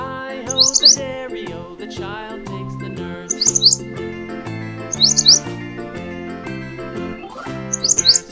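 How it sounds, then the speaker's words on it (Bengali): Short, bright bulbul chirps come in small bursts about every two seconds over a bouncy children's music track. "বয়ে বুলবুলিটির মুখটি কালো।"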